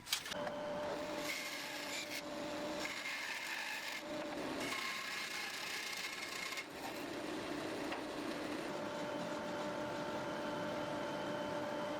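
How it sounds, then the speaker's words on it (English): A bandsaw cutting through wood to rough out joints while restoring a 1920s workbench, a steady close rasping buzz with the pitch shifting as the blade bites and eases through the stock. "I'll remove as much material as I can with the bandsaw to make things easier afterward"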